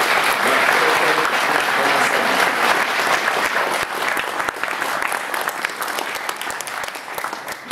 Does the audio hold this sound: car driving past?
no